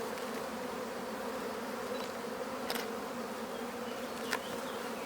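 A honeybee swarm colony on a hive frame produces a steady, dense buzzing drone that fills the whole stretch. A few brief individual bees fly close past, with no talking.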